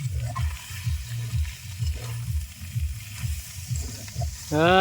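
Boiled khanman leaves sizzle loudly as they are added to a hot frying pan in a rural kitchen, with a rhythmic scraping of stirring under the steady frying hiss. No voices.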